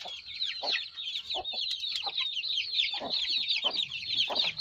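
Mother hens clucking busily at feeding and watering time, dense overlapping clucks and soft chatter close by, with scattered louder calls and a brief rooster-like cry, no talking.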